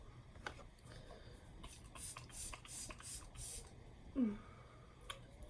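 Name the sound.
spraying e.l.f. Dewy Coconut Mist face spray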